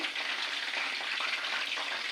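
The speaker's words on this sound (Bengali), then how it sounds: "এইভাবে এগুলোকে ভাজি করে নিতে হবে সুন্দর করে ভাজি করতে হবে" Bottle gourd leaf rolls frying in a pan, an even hissing sizzle that holds steady and close throughout, without stirring or speech.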